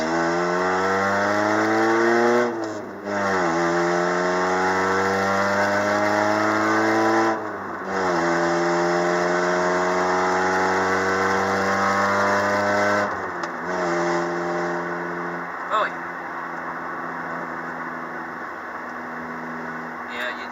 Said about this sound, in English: this engine just converts gasoline into noise for the most part